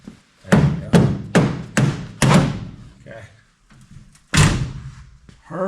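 Toyota FJ doors being hung and swung shut, a run of four or five solid thunks in quick succession, a pause, then one more heavy slam, with talk between the impacts.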